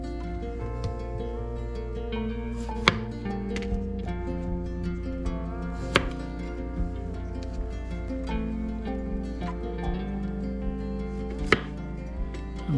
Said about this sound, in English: And we'll cut these kind of thick so they can hold up.